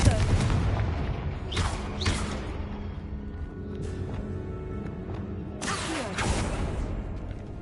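A fiery blasting spell cast in the Hogwarts Legacy video game, sounding as several loud booming bursts and crackling impacts over a dense rumbling game soundscape, close and continuous.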